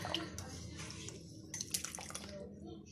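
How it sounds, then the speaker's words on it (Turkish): Water being poured off boiled manti dumplings in a home kitchen, a steady, faint splashing rush with a few louder spatters near the middle. "Suyunu süzün."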